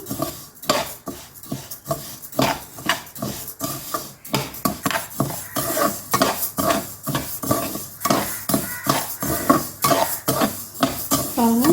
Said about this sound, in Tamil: இந்த உளுந்தே நல்லா செவக்க வறுத்து எடுத்துக்கலாம்